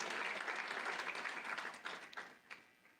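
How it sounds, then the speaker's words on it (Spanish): A church congregation claps together, loud dense applause that thins out and fades over the last second with a few scattered final claps. "Si van a aplaudir, aplaudan al Rey de Reyes y Señor de Señores"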